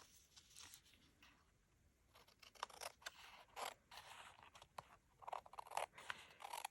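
Scissors snip through paper for a craft project, with a run of short, irregular cuts and crisp rustles close by, quiet overall, and no talking.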